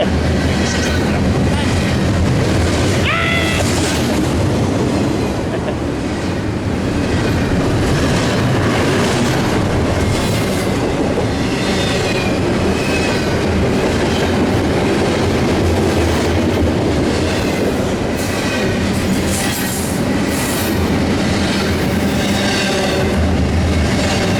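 A freight train led by a Dash 9 locomotive rolls past at close range, a loud continuous rumble with steady clickety-clack of wheels over rail joints, occasional wheel squeal and wind noise throughout.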